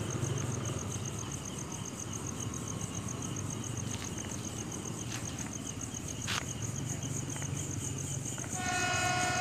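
KRL commuter train at an Indonesian level crossing, a steady rumbling pass with crickets chirping in the background and a brief horn blast near the end.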